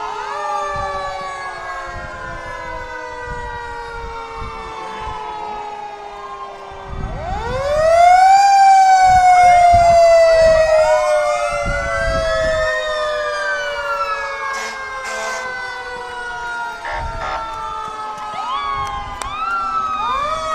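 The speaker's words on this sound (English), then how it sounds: "We have the fire trucks or the train." Fire truck sirens wail through a Memorial Day parade in Dunkirk, NY, several overlapping tones sweeping up and down, swelling loud around the middle and carrying on steadily with crowd noise beneath.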